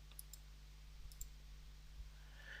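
A computer mouse clicks a few times, sharp and faint, over a low steady hum of a computer while someone works in SolidWorks Electrical 2017.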